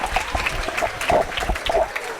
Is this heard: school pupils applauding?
yes